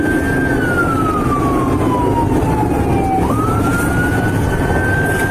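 Loud wailing siren of an ambulance running with a police escort, a single tone sweeping slowly down then rising again over steady traffic rumble, close and continuous.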